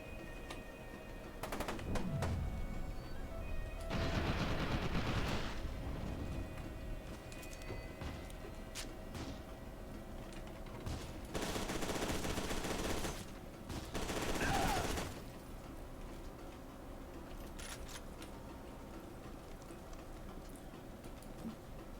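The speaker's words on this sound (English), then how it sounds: "who's shooting at me now?" Gunfire aimed at the player in the video game FEAR 2: Project Origin, several bursts of rapid automatic shooting over a steady background hum, moderately loud, with quieter gaps between volleys.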